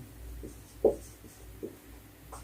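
Chalk or marker writing math formulas on a board during a trigonometry lesson, with a few soft scratchy strokes spaced apart, fairly faint over low room hum.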